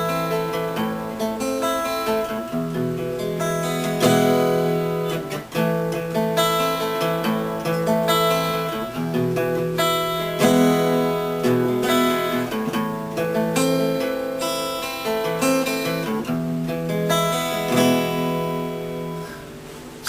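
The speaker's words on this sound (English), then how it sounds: "instead of just strumming them, you can pluck the notes individually" Guitar chords are picked one note at a time in flowing, arpeggiated patterns for about twenty seconds, close and clean, ringing notes overlapping, with no voice.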